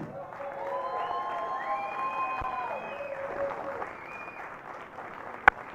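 A crowd claps and cheers after a U18 baseball championship game, steady applause filling the whole stretch with a single sharp clap or knock near the end, while an announcer's voice carries over it.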